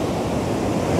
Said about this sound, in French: Les vagues ils sont beaucoup plus fortes qu'au Brésil